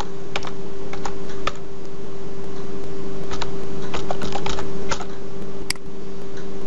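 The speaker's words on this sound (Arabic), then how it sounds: "بعد كتابة كلمة السر" Fingers type a password on a computer keyboard in a quiet room, a close, irregular run of crisp key clicks with brief pauses over a faint steady hum.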